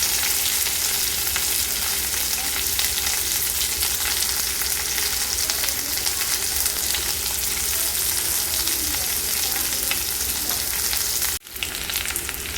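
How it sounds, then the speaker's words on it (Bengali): Chopped onion, green chilli, garlic and grated ginger fry in a pan for a paneer chilli gravy, a loud continuous sizzle broken by one brief clatter near the end. "পেঁয়াজ আর কাঁচা লঙ্কাটা দিয়ে কিছুক্ষণ ভাজার পরে আমি এখানে দিয়ে দিচ্ছি কুচিয়ে রাখা রসুন।"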